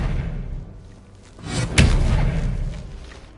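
An Expelliarmus disarming spell strikes in Hogwarts Legacy, a sharp thudding impact like a slam landing after a quieter lead-in, followed by a short rumbling tail.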